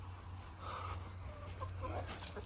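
Backyard chickens cluck softly and murmur in short bursts while pecking at strawberries, fairly close against a steady low hum of background noise.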